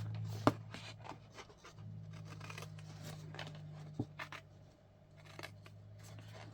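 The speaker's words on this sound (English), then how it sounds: "We're going to cut it from here, come through here, and cut it along our line." Scissors snip through a very lightweight material along a marked line, making quiet, close, crisp cutting strokes in short repeated bursts with soft rustling between.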